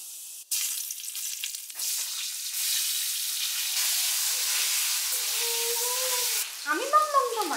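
Hilsa fish frying in a hot pan gives a steady, close sizzling hiss that runs for several seconds, and a voice breaks in briefly near the end.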